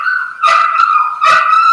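A dog named Henry barks twice outdoors, each bark a loud, close, sharp burst over a steady high-pitched background tone, with a short gap between them.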